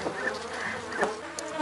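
A large, strong honeybee swarm in a hive under inspection fills the air with a dense, continuous buzzing drone, close and steady, with individual bees passing nearby.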